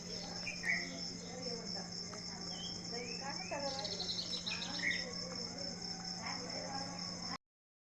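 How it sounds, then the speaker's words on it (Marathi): Birds chirp in short scattered calls outdoors, set against a steady wash of crickets; the whole scene is quiet and distant. "आता बघा किती मस्त पक्ष्यांचा आवाज येतोय"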